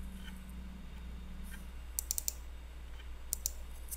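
A computer mouse button double-clicks while working in an Excel spreadsheet. A few quick, faint clicks come in short pairs against a steady low hum, with no talking.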